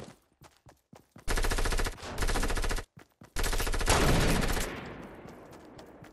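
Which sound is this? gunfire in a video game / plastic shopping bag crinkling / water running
gunfire in a video game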